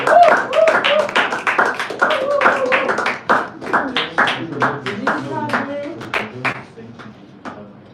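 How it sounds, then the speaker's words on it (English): A conference audience at a sales growth event claps to welcome a speaker: scattered, fairly close hand claps with a few louder sharp hits, thinning out toward the end, with voices over them. "with a clapping ovation, yes, please welcome Mr. Moses Adebayo"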